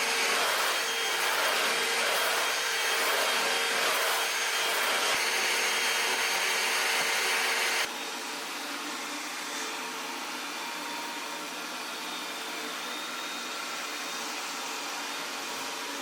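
A loud upright vacuum cleaner roars, then cuts to a noticeably quieter, steady whirring hum of a Roborock S8 MaxV Ultra robot vacuum running alone.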